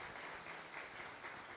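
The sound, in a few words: congregation applause at a worship service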